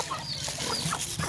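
Native-breed Lao chickens cluck in short, scattered calls at close range over a steady farmyard background, with no voices.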